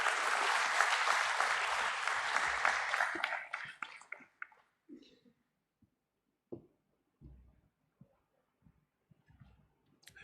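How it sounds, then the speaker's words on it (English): Crowd applause at a company IPO listing ceremony, fairly quiet, dense clapping for about four seconds that thins out into a few scattered claps and small knocks before falling silent. "Please welcome him with a round of applause."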